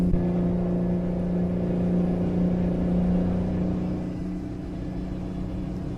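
A Mack RS700 truck engine in American Truck Simulator drones with a steady low rumble and hum, holding fairly even before easing slightly toward the end, with no talking.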